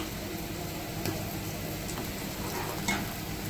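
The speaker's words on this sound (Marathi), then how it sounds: "कालवणाला बघा किती मस्त उकळी आली" Fish curry with kokum simmering at a rolling boil in a pot, a steady close bubbling and sizzling hiss with faint pops throughout.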